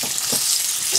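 Crucian carp frying in a pan, a steady close sizzle and crackle of hot oil running evenly throughout with no voices.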